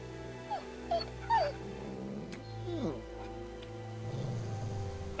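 A dog whimpers and yips in short, rising whines, several separate cries spread over a few seconds and fairly close, over a low steady hum, with faint speech in the background.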